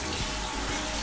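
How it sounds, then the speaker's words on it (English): Tap water gushes steadily into an orange bucket, a dense continuous splashing rush that fills the moment without pause. "Getting some water in the orange bucket."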